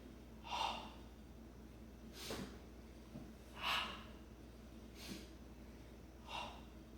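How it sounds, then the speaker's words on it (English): Nasal inhales during a curl-and-arch breathing exercise: about five soft, airy breaths spaced a second or so apart, close and alone with no talk. "The breathing goes, inhale through your nose"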